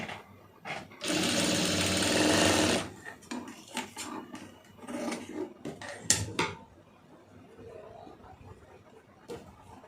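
A sewing machine stitching a blouse neck cross piece, one loud sustained burst of rapid stitching followed by scattered clicks, fabric handling and short mechanical taps nearby.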